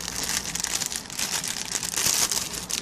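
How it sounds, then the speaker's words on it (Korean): A plastic bag is cut into long strips, giving a steady, close crinkling and rustling of thin plastic that continues throughout without speech. "비닐봉투. 요거를 길쭉하게 자르려고요."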